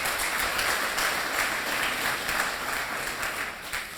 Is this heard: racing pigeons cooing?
no